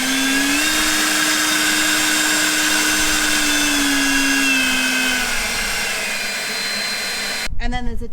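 EGO battery leaf blower running steadily on its lowest setting, a loud continuous whirring hiss with a steady motor tone that dips slightly near the end, followed by a brief burst of nearby talk.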